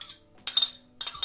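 Chopped bell pepper drops into a bowl in a few quick bursts of light clinking and rattling. The bursts are close and crisp and are separated by brief silences.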